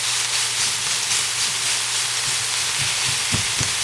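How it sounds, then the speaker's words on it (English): Hamburger and sausage brown in an iron skillet with a constant loud hiss and sizzle, a few low thumps near the end, and no talking. "we're just going to brown this hamburger, brown this sausage until it's done"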